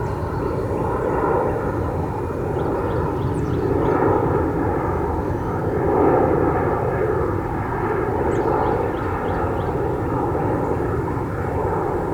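An E-Flite EC-1500 twin-engine RC model airplane flies a go-around, its steady, loud engine drone rising and falling slightly with no one speaking.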